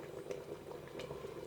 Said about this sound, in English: And let's keep boiling it.